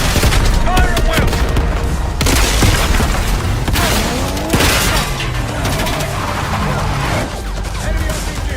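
Loud, dense game gunfire and booming blasts from Call of Duty: Black Ops 6 in an assault on a palace gate, with rattling bursts, crashes and scattered shouted voices running continuously throughout.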